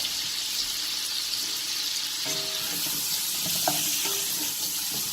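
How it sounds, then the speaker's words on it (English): Ground meat and sausage browning in a pan for homemade tomato meat sauce, a steady broad sizzle close up with a few clinks and scrapes of stirring partway through, no talk. "we're going to continue to brown our meat. Let that cook up."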